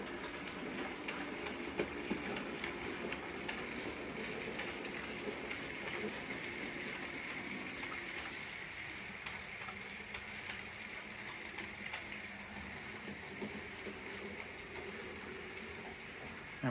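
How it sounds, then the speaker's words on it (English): An OO gauge model train runs steadily around a layout, a continuous low rolling rumble with faint rhythmic clicking over the rail joints, holding at an even level throughout with no talk. "Now we're supposed to be watching trains go by"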